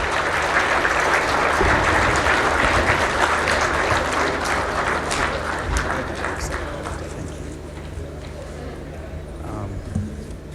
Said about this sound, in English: you stand up and give him an applause as he comes to the podium